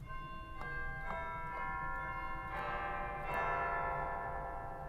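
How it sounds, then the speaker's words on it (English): The chimes stop of a large pipe organ with 121 ranks, played in a church in Washington DC: several bell-like strikes ring out one after another, each leaving a long, sustained shimmering tone that overlaps the next. "We've got Chimes."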